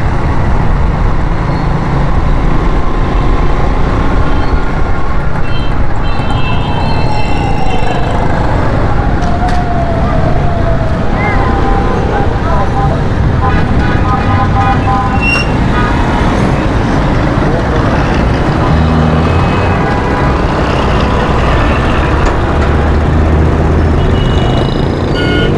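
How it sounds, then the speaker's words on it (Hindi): Heavy road traffic at an unsignalled junction in Saddar, Karachi: a loud, constant roar of cars, buses and trucks with horns and engine drone running throughout the whole stretch. "बहुत बुरा हाल है ट्रैफिक का यहाँ पर, क्योंकि सिग्नल नहीं है ना।"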